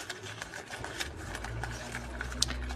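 A sewing machine stitches a seam through fabric, a steady low mechanical whir running continuously with faint clicks, moderately quiet and close, with no talking over it.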